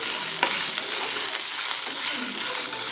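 Pomegranate seeds are stirred into a poriyal in a frying pan, giving a steady soft sizzle with scraping spatula strokes throughout and one sharp tap near the start.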